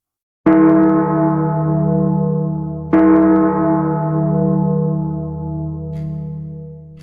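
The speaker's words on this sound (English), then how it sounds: "The bells were ringing wildly." Two heavy church bell strikes at midnight at All Saints Edmonton, a few seconds apart, each ringing out with a long, rich, slowly fading tone.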